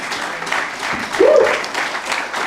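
An audience at the unveiling of the Zenith Labour Party applauds, a steady wash of clapping with a voice briefly rising over it.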